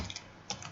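Brief close-up of a computer keyboard being typed on during Unity work: a few quick crisp key taps over faint room noise, with no voices.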